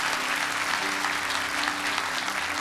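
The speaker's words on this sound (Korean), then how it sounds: "우리 큰 박수로 축복해 주십시오." Sustained applause from a church congregation during a Sunday worship service, a dense, steady clapping that fills the room for the whole stretch, with a faint hum of voices underneath.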